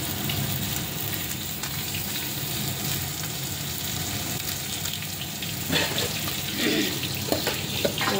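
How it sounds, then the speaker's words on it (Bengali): Four koi fish frying in hot oil in a pan, giving a steady, close sizzle throughout with louder spattering crackles and stirring noises near the end. "ভেজে নিচ্ছি মাছগুলো, চারখানা দিয়ে দিলাম, তেল দিয়ে দিই"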